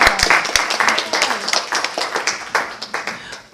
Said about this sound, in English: I want to first of all give Carol Hemmis a big round of applause